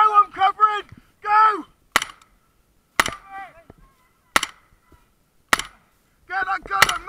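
Gunfire during a Royal Military Police field exercise: four sharp, loud single shots spaced about a second apart, with urgent shouted voices before and after the shots.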